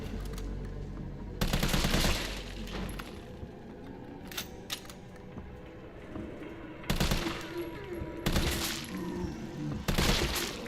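Bursts of gunfire in the Resident Evil game, several loud volleys of rapid shots separated by quieter stretches of game ambience, with a couple of brief single cracks in between.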